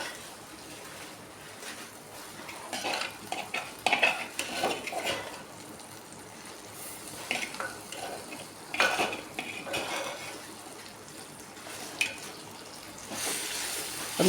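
Plantain stir-fry being stirred in a pan with turmeric, salt and chilli powder, giving intermittent scraping and clinking of a spoon against the pan at close range, with faint background noise and no talk.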